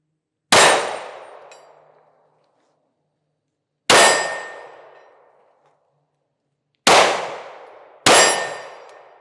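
Pistol rounds from a Shield Plus Carry Comp striking 7x12-inch steel targets outdoors, four sharp metallic clangs that ring out and decay, the last two close together, with silence between.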